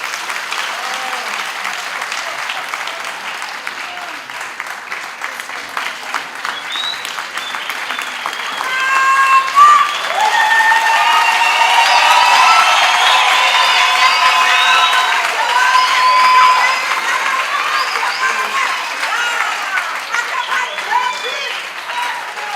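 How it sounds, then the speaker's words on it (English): An audience in a lecture hall applauds after a professorial inaugural lecture. The clapping is steady and fairly loud, swelling louder midway with a few cheers, while a voice speaks over it at times. "I didn't hear that round of applause. Can we make it louder?"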